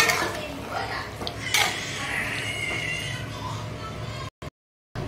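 A pot of Bengali kochu shak cooked with hilsa fish head gets a final stir, metal spoon scraping and clinking against the pot in steady strokes before a brief cut to silence near the end.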